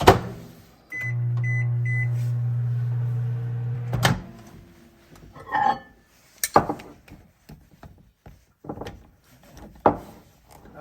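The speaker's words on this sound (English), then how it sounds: "Okay, I'm gonna put it in the microwave." A microwave oven hums steadily for about three seconds with a few beeps, then stops; knocks, clicks and a door thud follow in a quiet room.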